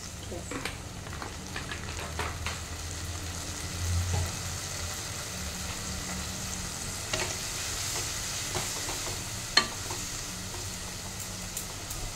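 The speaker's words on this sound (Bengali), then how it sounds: "এবার এটা ভালো করে কষিয়ে নেব।" Spice masala with ginger, chilli and a splash of water frying in a pan for a fish head and potato curry, with a soft steady sizzle and occasional stirring clicks and scrapes throughout.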